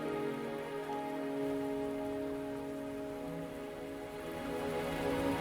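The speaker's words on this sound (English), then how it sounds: "Are you trapped here by the rain?" Steady rainfall patters across surfaces in the Wuthering Waves game world, an even, continuous hiss of drops with a low tonal music bed running underneath, no voices.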